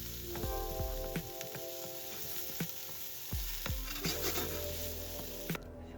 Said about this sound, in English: Heat oil in a frying pan over medium heat. Add the daikon and onion and cook until the daikon turns slightly